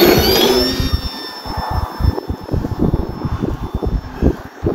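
An aircraft engine winds down after the throttle is cut in snowy weather, its whine dropping away into slowing, pulsing chugs close by.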